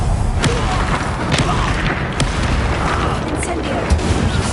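Incendio, a fire spell in Hogwarts Legacy, fills the scene with a loud, dense roar of flame and crackling bursts, punctuated by sharp impacts, while a voice speaks over it.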